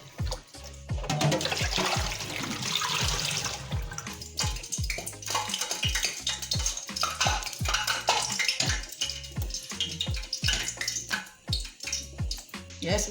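Peeled yam and plantain washed under running water in a kitchen, a steady splashing flow broken by irregular knocks and clunks of the pieces against the pot, while someone talks over it.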